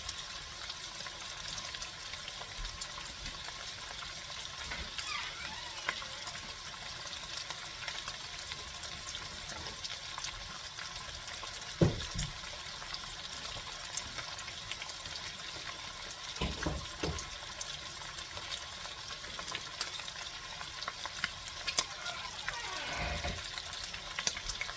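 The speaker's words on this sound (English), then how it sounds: "the bacon's starting to get a little crispy" Bacon frying in a pan for a sausage, broccoli and rice casserole gives a faint, steady sizzle with a few scattered clicks across the whole stretch, with no talk.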